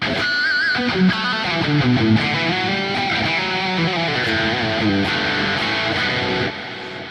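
A sustained, distorted electric guitar lead on a Liquid Lead 3 patch plays a melodic line with bends and held notes, loud and steady, with no voices.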